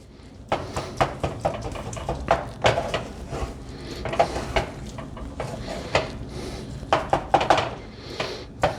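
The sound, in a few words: stirring milk into sausage gravy in pan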